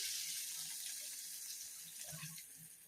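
Water pours steadily from a tap into a pot of mashed potatoes and spices for a village-style Odia fish curry, a continuous hissing splash with no talking.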